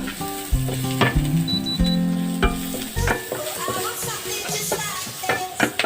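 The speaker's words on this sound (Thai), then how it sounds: "ผัดกระเทียมให้หอม" Garlic stir-fried in a pan with a little oil for a Thai home-style pork and chicken dish: a close, steady sizzle punctuated by the scrape and knock of stirring.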